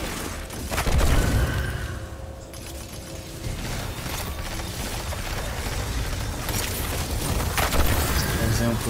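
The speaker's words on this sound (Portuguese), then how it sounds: "Tem um tiro de bala." Gunfire in the video game Destiny 2 during a Grandmaster Nightfall activity, with loud bursts, booms and mechanical clatter layered over continuous game noise and no clear talk.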